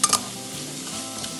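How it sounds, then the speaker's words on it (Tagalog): Garlic, onion and ginger paste sautéing in a Saladmaster pan, a steady soft sizzle with a couple of sharp utensil scrapes at the start and a faint clink near the end, no talking. "Now it's time to saute our garlic, onion, and ginger."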